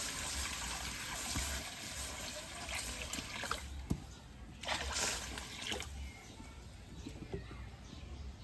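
Water splashes and sloshes into a cooking pot being set to heat for broken-rice, close and moderately loud, with bursts of pouring among quieter trickles and faint background chirps.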